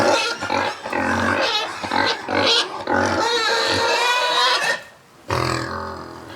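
Pigs grunt in a warm barn shared with cows, with loud, close, repeated grunts in quick bursts and a brief lull before they resume.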